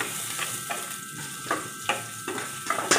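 Ginger frying with mussels in a pan, a steady hiss of sizzling oil with a few louder crackles and stirring scrapes, close and continuous, no voices.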